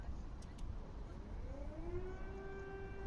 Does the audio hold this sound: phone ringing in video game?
no